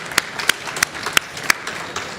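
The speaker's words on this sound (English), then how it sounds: "Give an applause to our panel as they retake their seats." Conference audience applauding a panel as they return to their seats, a moderate close patter of clapping with a few loud individual claps standing out at a steady rhythm.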